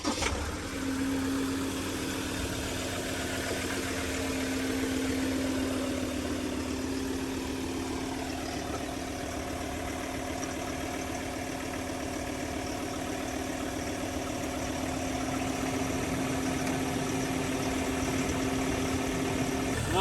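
A Ford Everest engine running with a steady, even drone and faint vibration, heard from inside the car and holding constant throughout with no talk.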